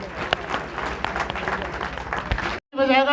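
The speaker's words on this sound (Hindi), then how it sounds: "जब भी ताली बजाओ खुल के बजाओ" An audience at a school student-honouring ceremony claps steadily and warmly, a dense roll of applause from a crowd nearby, broken by a brief pause before more sound resumes.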